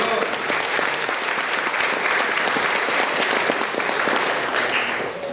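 Church congregation applauding together during a sermon, a steady dense wash of many hands clapping at close range with a few voices mixed in.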